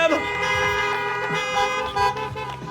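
Car horns honking at a Miami fashion runway event, a dense cluster of overlapping toots and blares mixed with crowd noise and voices throughout.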